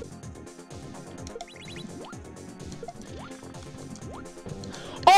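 Water effects in a platformer video game level: bubbly, gurgling underwater tones and repeated rising blips and jump sounds over a soft game backdrop, ending with a sudden louder burst.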